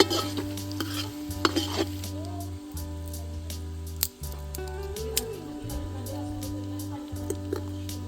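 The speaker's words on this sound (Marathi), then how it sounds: "इथे भांड्यामध्ये आपण तेल कांदा खडे मसाले आणि काजू सगळे भाजून घेत आहे" Onion, whole spices and cashews roast in oil in a pot for a masale bhaat, giving a soft sizzle under repeated scraping and stirring clatter of a utensil against the metal pot, with steady background hum.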